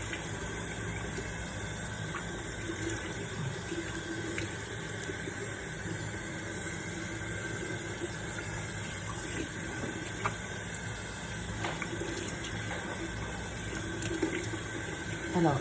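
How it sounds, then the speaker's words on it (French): A bathroom tap runs steadily for rinsing the face after exfoliating, a constant close hiss of flowing water with faint splashes, and no pause for the whole stretch. "je vais venir me rincer."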